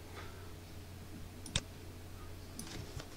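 A single sharp mouse click stands out against a quiet background, with a couple of fainter clicks following, close by.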